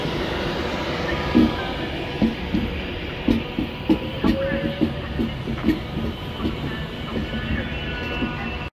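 A train clatters through Oxenholme railway station in Cumbria, with rhythmic wheel thumps over rail joints under a steady rumble, fairly close, while a faint voice talks.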